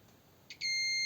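A multimeter sounds its continuity beep while probing a Linksys Cisco PAP2 circuit board: a brief false start, then a clear, steady high-pitched tone that holds to the end.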